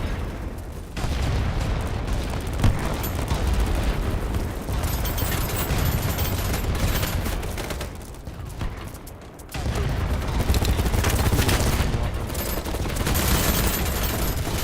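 Dense, continuous gunfire from the online shooter BattleBit, with overlapping bursts and booming impacts sustained at high volume throughout, briefly dipping near the middle before resuming.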